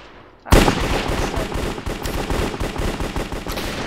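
Rapid fake gunfire from a decoy grenade in a Minecraft version of CS:GO starts abruptly after a quiet half second, then a dense burst of shots rattles on loudly and continuously.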